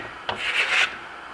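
Clear paste polishing wax rubbed by hand onto marmorino Venetian plaster with a Tuscan limestone block finish, a single short, close scraping swipe that swells and fades.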